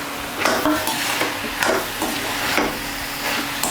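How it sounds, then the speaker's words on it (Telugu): Ridge gourd curry being stirred in a pan, a spoon scraping and tapping the metal in irregular strokes over a steady soft sizzle, close and fairly loud. "ఇలా మధ్య మధ్యలో అడుగంటకుండా కలుపుకుంటూ ఉండాలి"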